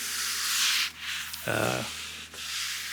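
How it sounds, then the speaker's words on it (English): Sanding on the bumper of a 1977 Camaro Z28, loud close abrasive rubbing in long continuous strokes with a brief pause and a short lower-pitched scrape in the middle. "So, get this sanded down."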